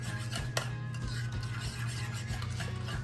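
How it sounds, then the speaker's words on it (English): A spoon stirs barbecue sauce in a bowl, a soft continuous scraping with light clinks, under a steady low background hum. "in my barbecue sauce, and I'm gonna stir it around"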